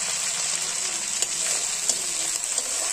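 Meat sautés with onion, cloves, cardamom and cinnamon in a pan at home, a steady hissing sizzle at moderate level broken by a few faint stirring clicks, with no talking.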